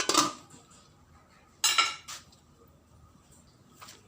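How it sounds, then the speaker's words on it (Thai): A metal lid set onto a cooking pot in a home kitchen while beef shank simmers for a Thai braised dish: a bright clanging clink, then a second clatter about 1.5 s later and a faint tap near the end. "ปิดฝาเลยครับ"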